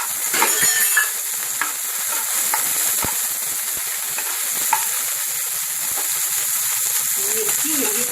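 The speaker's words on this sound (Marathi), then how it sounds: "तेल गरम झालंय, आता मी त्याच्यामध्ये शिमला मिरची टाकते आणि" Capsicum and onion dropped into hot oil and stirred in a pan, a steady bright sizzle with scattered scraping clicks of a spoon and a brief low rumble near the end.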